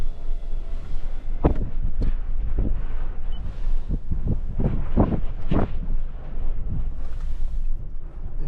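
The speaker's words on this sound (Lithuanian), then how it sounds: "Panašu vėjas nenurims." Strong gusty wind buffeting the microphone outdoors near the Buzludzha monument in Bulgaria, a loud rumbling roar with repeated heavy thumping gusts and no talking.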